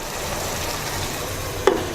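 Chicken and vegetables cook in a covered pan with a soft, steady sizzle and a single small clink near the end.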